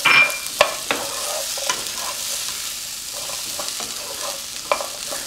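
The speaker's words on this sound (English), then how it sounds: "make sure that you really glaze the green beans with the oil" Green beans fry in oil in a pan, a steady close sizzle broken by a few sharp clicks and scrapes of stirring, louder at the very start.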